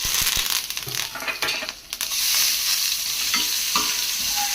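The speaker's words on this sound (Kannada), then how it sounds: "ಒಗ್ಗರಣೆ ಹಾಕ್ಕೊತಿದ್ದೀನಿ ಸಾಂಬಾರಿಗೆ" Spices tempered in hot oil for sambar sizzle and crackle loudly up close, with metal stirring scrapes and sharp pops punctuating the steady frying hiss, no one speaking.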